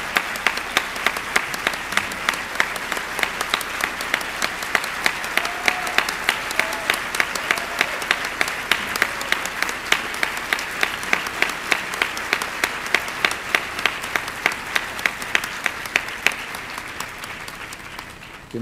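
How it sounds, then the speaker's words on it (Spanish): Sustained audience applause at the opening ceremony of a film festival, dense steady clapping from a large crowd filling the whole stretch before thinning slightly at the end. "Un aplauso para ella."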